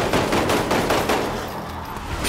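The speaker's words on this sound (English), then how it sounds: "Now I have a machine gun" A machine gun in Resident Evil Umbrella Corps fires in a rapid series of loud, close cracks that taper toward the end of the short burst, with no talk.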